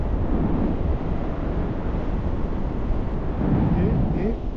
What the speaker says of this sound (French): Le vent, bon, pas très fort.